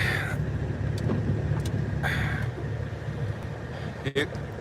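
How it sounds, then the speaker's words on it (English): A pickup truck drives up during a local firewood delivery, its engine a steady low rumble with road noise throughout, fairly close, while people talk over it. "There's his truck."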